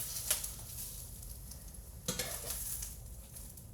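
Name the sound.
onions frying in a pan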